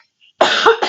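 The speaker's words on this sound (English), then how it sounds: "Pardon me, I have to cough." A woman gives a single sharp, loud cough up close, a harsh burst with a brief second push near the end, during a knitting podcast.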